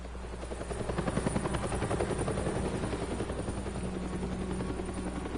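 A helicopter in a Batman video game drones steadily with a rapid rotor chop, loud and continuous throughout, with no voices over it.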